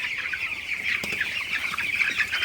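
A flock of broiler chickens clucks and chatters continuously, a dense overlapping murmur of many birds at steady volume, with no talking.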